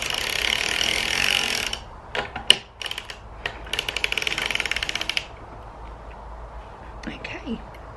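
A Gertie hand-cranked knitting machine working rows, giving a steady mechanical whirr that breaks into a quick ratcheting clatter of needles partway through, with a faint voice underneath near the end.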